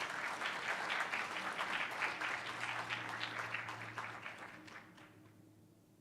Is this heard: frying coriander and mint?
no